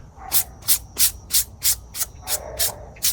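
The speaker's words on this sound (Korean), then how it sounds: "이 320방짜리 사포로 살살살살 갈아줄게요" Nine steady strokes of fine 320-grit sandpaper rubbing back and forth over a freshly painted surface of a dollhouse room box, each a short hissy swish in an even rhythm, close up.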